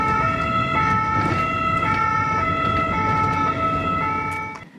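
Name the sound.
connected ambulance siren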